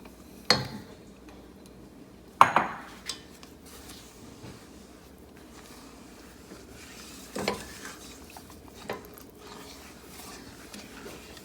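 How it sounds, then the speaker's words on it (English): Sugar stirred into melted chocolate for fudge brownies makes a quiet scraping swirl, broken by a few sharp clinks of a utensil against the bowl or pan spaced several seconds apart. "we're gonna start adding the sugar to it. Make sure you're mixing it well."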